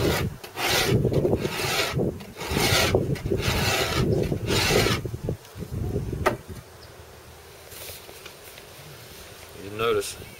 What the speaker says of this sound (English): we need to scrape one more time